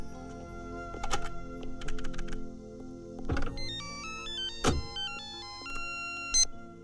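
A mobile phone rings with a melodic electronic ringtone during an outgoing call, its tones stepping up and down in a tune, mixed with button taps and brief clicks, with no talking over it.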